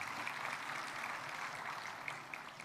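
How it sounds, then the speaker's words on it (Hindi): Audience applause at a political gathering with Chief Minister Yogi Adityanath, a fairly faint, steady patter of clapping from a distant crowd. "एक बार तालियां बजाइए"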